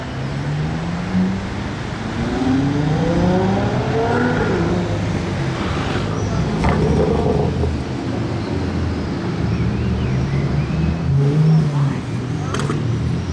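A Lamborghini Aventador supercar arriving on a street in Monaco, its engine note rising and swelling loudly as it approaches, with steady roar and a few sharp crackles from the exhaust near the end.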